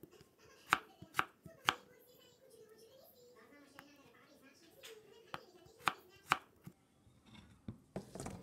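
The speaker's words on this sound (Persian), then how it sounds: "2 تا سیب زمینی رو به شکلی که میبینین نگینی خوردش میکنم" A knife dices two potatoes into small cubes on a cutting board while a yellow and red cherry tomato dami is being prepared. Crisp, separate chops come in irregular bursts over a quiet background, with faint low voices in between.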